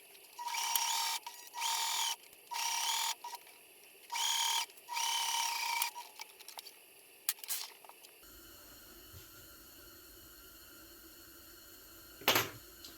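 Sewing machine stitching the back panel of a child's waistcoat in five steady bursts of running, each a second or so long with short pauses, followed by quieter handling noise and a single sharp knock near the end.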